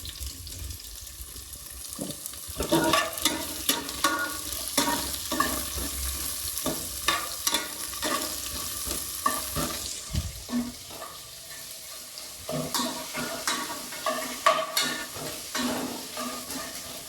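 Onions fry in a pan, producing a steady sizzle. A utensil scrapes and stirs them in repeated strokes, loud and close, for a bachelor-style chicken biryani.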